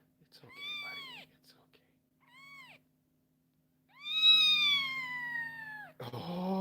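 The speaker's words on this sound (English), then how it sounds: "These kittens have actually been relatively good about being held without yelling too much" High, plaintive meows from kittens, a few short cries then a longer drawn-out one, close by, ending in a burst of rustling.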